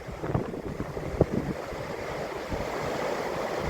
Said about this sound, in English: Waves don't look that big, but obviously the surfers enjoy them.